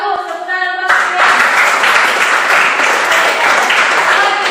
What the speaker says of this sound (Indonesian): tepuk tangan buat Sirian